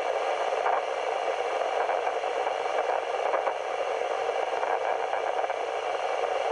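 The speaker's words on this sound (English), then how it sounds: "That popping sound you hear is the discharge of individual neurons in the leg of the cockroach." Nerve activity from a cockroach leg, amplified through a SpikerBox, comes through as a dense, steady crackle of tiny pops over a static-like hiss. It stays at a constant level for the whole stretch, with no talking.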